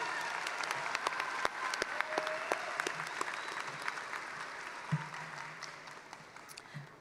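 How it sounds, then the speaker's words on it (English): Steady applause from an audience at a college commencement ceremony, sustained clapping with a few louder individual claps standing out, then tapering slightly toward the end. "let's give another round of applause for Celia Cornelius."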